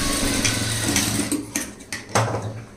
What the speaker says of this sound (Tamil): மேல் பக்கம் ஒரு மேல் தையல் வந்து போட்டுருங்க.